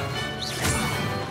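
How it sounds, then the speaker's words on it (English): Levioso levitation spell from a wand in Hogwarts Legacy, a single soft whooshing burst midway through, set against steady game ambience and music. "Levioso."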